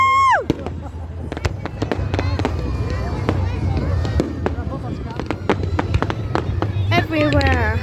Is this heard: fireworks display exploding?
yes